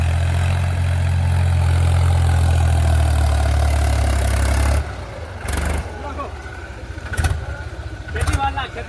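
A tractor engine runs close by with a loud, deep idling rumble that stops about halfway through, leaving scattered thumps and brief voices.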